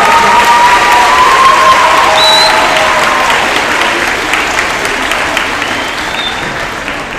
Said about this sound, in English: hand of applause for all of our high achievers for all these achievements.